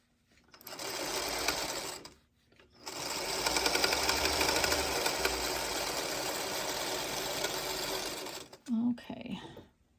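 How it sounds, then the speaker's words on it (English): A sewing machine stitches 2.5-inch quilt squares together, one print and one background, in two steady runs of loud, even whirring separated by a short pause, ending with brief handling noise. "I'm just sewing them together"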